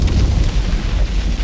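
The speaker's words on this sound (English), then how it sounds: "a massive explosion rocked the earth" A massive explosion in an audio drama gives a deep, rumbling roar that holds strongly through its whole length with no pause.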